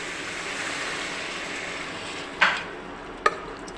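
Water pours into a hot cooking pot of meat rice with a steady rushing sizzle, followed by two sharp metallic clinks.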